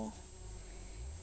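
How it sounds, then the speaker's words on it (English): Bees buzzing around the entrance of their nest, a low continuous droning hum, faint and close, with no other sound over it. "these are like the guards, these bees on the outside"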